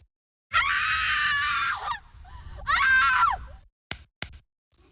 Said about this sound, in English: Mary stood on her bed. She yelled and screamed and stomped her feet.